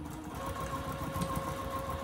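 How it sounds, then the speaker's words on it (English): A sewing machine runs steadily while stitching the seam of a fabric placemat pouch, giving a faint, even mechanical hum with a light rapid needle chatter throughout. "you can go ahead and stitch that down using a quarter inch seam allowance"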